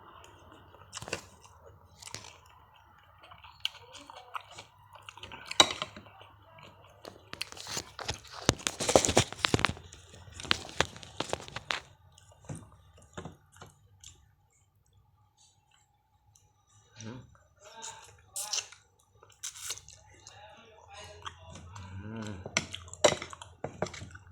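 Chewing and slurping while eating tom yum sea bass head soup, soft close wet bites and crunches in scattered bursts with quiet gaps between.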